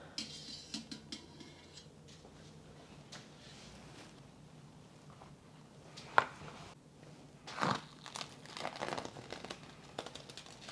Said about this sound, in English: Wow, it smells so much better after I got the plastic wrap off.